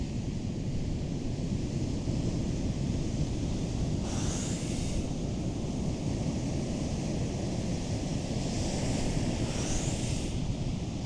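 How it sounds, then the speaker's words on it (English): Large ocean waves break on a beach in Brazil, a continuous loud roar of surf with two brighter crashing swells, buffeted by heavy wind against the microphone. "That's a huge wave once again, that's massive."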